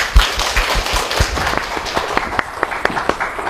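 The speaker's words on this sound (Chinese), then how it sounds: "那现在我们就掌声请出两位" An audience at a Go match broadcast applauds to welcome two commentators, giving a few seconds of close, busy clapping with scattered sharp individual claps.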